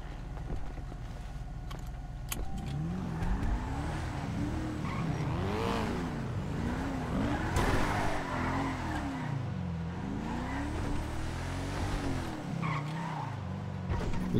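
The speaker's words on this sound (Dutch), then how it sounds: "Het is echt een hele trage auto." A slow car in a roleplay video game drives and skids, its engine revving in repeated rising and falling swells with tire squeal over a steady loud drone, close and continuous.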